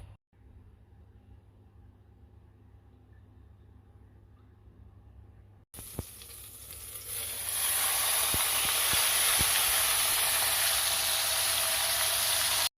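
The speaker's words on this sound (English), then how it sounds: "I'm going to throw the meat in and sear it for about 10 minutes." Lamb meat hits hot olive oil in a crock pot and breaks into a loud, steady sizzling hiss that swells and holds, after a quiet stretch with a low hum.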